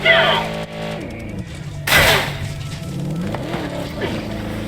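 Car driving in the Helldivers video game, engine revving and rumbling with a sharp crash or impact midway, close and loud, with a voice talking over parts of it.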